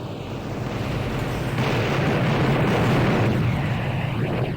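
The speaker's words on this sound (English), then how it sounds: "now we've called in an airstrike, so let's just watch the fireworks" A called-in airstrike explodes in the video game Blood: Death Wish, a continuous loud rumbling barrage of booming blasts that rolls on without pause.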